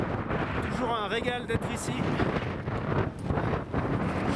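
Wind gusts across the microphone on the Mont Blanc ridge during a ski ascent via the Grands Mulets, a constant loud rumbling buffet with a person speaking briefly over it.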